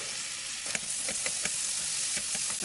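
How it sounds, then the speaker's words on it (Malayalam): Finely chopped onions and shallots sauté in a pan for a duck curry, giving a constant close sizzle with light scraping stirs and small pops at intervals. "അതും ഉള്ളിയും കൂടിയിട്ട് ഇട്ട് കൊടുക്കുക. നന്നായി വഴറ്റിയെടുക്കാം."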